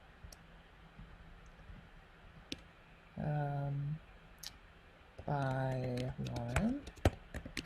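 A computer keyboard gives sparse, crisp key clicks under a nearby speaking voice that comes and goes, with a quiet background between the words.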